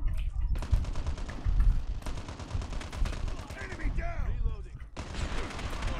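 Rapid automatic gunfire from a weapon in the mobile shooter game Call of Duty Mobile, dense bursts of shots that stop and restart, mixed with game effects and some talk.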